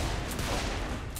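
Continuous gunfire fills a brief moment of Saints Row 4 gameplay, a dense, loud burst of rapid shots with no pause.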